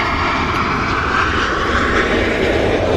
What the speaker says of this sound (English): here we are, A380 Expo livery on the taxi out